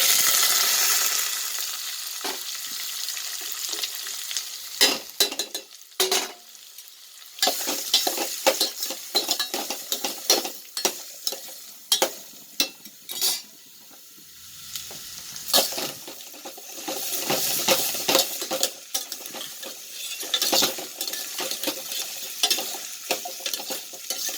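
Small onions go into a pan of roasted fenugreek for a kuzhambu, sizzling loudly up close while a spoon scrapes and clatters in irregular strokes, with brief quiet gaps between bursts of stirring.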